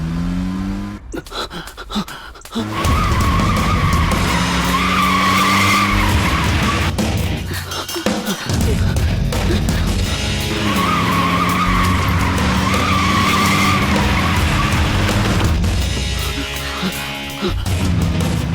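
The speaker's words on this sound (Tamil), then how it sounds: "ஏய் ஸ்டார்ட் பண்றா. வண்டி எடு, வண்டி எடு." A vehicle starts and pulls away hard with loud revving and long tire skids, close and sustained, and one brief lull before the screech picks up again.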